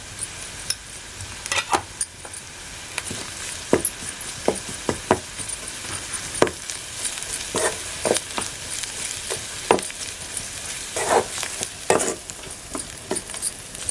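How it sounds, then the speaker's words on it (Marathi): Goda masala spice mix with turmeric sautéed in a pan for a wild gometi vegetable dish. A steady sizzle runs throughout, broken by frequent sharp scrapes and taps of a spatula stirring against the pan, close and clear. "गोडा मसाला परतून घेतलाय"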